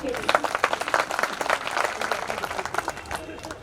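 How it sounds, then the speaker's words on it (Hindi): An audience at a Hindi poetry gathering (kavi sammelan) claps steadily and densely throughout, with voices and crowd murmur mixed into the clapping. "एक बार मुझे ताली बजाकर स्वीकृति दीजिए।"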